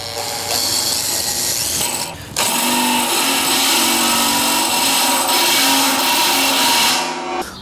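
A step drill bit bores through the steel wall of an all-grain brewing kettle, a loud continuous grinding whine with a short pause near two seconds, then steady cutting until it tapers off near the end, with no talk.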